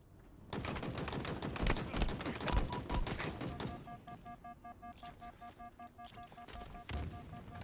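Rapid machine gun fire rattles in Halo Infinite, a dense burst of fast shots for about three seconds, then quieter scattered shots under electronic beeping tones.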